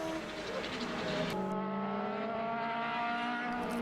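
Racing cars at Mondello accelerate hard down the straight, a loud, close engine roar with a gear change partway through, pitch climbing steadily.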